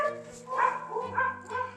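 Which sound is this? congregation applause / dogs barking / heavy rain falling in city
dogs barking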